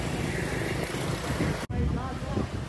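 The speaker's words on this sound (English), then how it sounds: "traffic just comes from all directions" Busy mixed road traffic of motorbikes, cars and buses streaming through a four-way intersection with a blinking yellow signal in Hanoi, Vietnam, a dense close roar heard from a bicycle, with a brief dropout partway.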